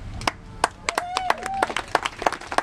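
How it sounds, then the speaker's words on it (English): Scattered, sparse clapping from a small audience at a candlelight vigil for a dog rescue, individual sharp claps spaced irregularly, with a voice talking faintly underneath. "Give yourselves a round of applause."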